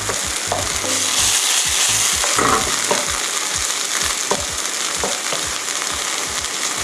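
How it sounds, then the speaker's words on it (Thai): A loud, close stir-fry of crab sticks with fish sauce and water in a pan, before the udon goes in: a dense sizzle broken by quick, repeated scrapes and clacks of the spatula, with no speech. "นี่เดี๋ยวเราจะผัดต่ออีกแป๊บหนึ่งค่ะ ให้น้ำปลาเริ่มละลายแล้วก็เริ่ม เข้ากันค่ะ"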